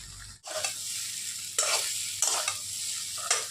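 Soya chunks frying in an oil-filled kadai for a vegetarian dish, with a constant close sizzle and repeated loud scraping stirs at a steady, unhurried pace.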